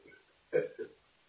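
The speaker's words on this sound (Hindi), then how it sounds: "जैसे ही कॉक पीना शुरू हुआ हमारे डकार आने शुरू हो गए" After drinking Coke, someone lets out a close burp followed by a second, smaller one, in a quiet room.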